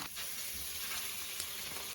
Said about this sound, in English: Just frying a glob of yogurt on its own does sound pretty disgusting.